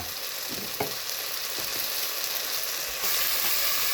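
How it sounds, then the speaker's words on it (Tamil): Ground spices fry in a pan for a village-style rabbit gravy, giving a bright continuous sizzle with a few sharp knocks from stirring and a louder surge near the end. "எல்லா மசாலாவும் போட்டு விட்டேன், நல்லா கிண்டுறேன்"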